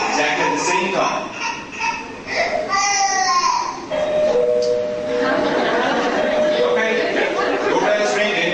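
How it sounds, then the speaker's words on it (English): An infant cries in loud, wailing bursts that rise and fall across the span, with an adult voice and chatter mixed in underneath. "Baby cries exactly at the same time."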